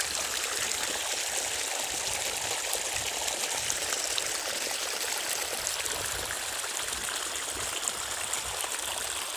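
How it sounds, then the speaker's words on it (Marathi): Water from a well runs through a channel on a farm growing sugarcane and drumstick trees, making a steady, even rush and trickle that continues without pause at moderate loudness. "इथे विहिरीतनं पाणी येते दारं धुण्यासाठी"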